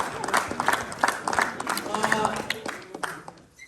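An audience in a room claps steadily after a drama presentation by colleagues. The clapping runs throughout, with someone talking over it.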